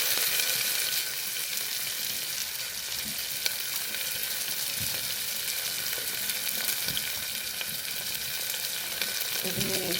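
Garlic, onion and chilli sizzle and crackle steadily in hot oil in a home kitchen. Occasional stirring clinks and scrapes sound against the pan, with no talking.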